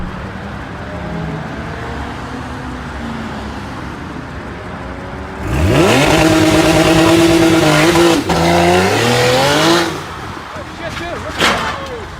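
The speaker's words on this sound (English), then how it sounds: "A careless car driver speeds recklessly, repeatedly colliding with the roadside barrier, displaying dangerous driving behavior." A speeding car howls past with a rising engine roar and squealing tires, loud for several seconds, then sharp impact thuds as it strikes a roadside barrier, with crowd noise and voices around.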